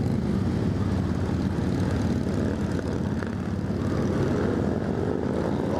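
A pack of more than forty Harley-Davidson motorcycles rides through a tunnel, their engines merging into a dense, loud, unbroken roar that echoes off the walls throughout.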